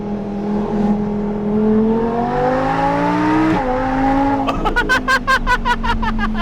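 An Audi R8 V10 Plus on a hillclimb revs hard, its engine note rising steadily, dropping at a shift, then climbing again into a loud rapid stutter of shift pops.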